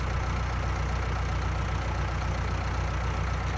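A farm tractor sits idling on Marwell Manor Farm, its engine giving a steady, even, low throbbing drone that runs unbroken at moderate volume throughout. No voices are heard.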